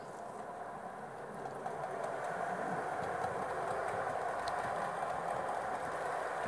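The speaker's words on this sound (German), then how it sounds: "der ICE 2 von Gleis 1 hat jetzt Ausfahrt" A Roco model ICE 2 train pulls out from track 1 on a model railway layout, its motor hum and rolling rumble rising slightly and holding steady, close and moderately loud with no talk.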